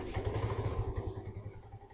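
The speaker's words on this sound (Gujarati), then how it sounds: "એન્જિનનો અવાજ તમને સંભળાવી દો" A Hero Destini 125 scooter with about 14,000 km on it idles nearby, its engine putting out a steady low, slightly uneven putter that eases off toward the end, with no talking.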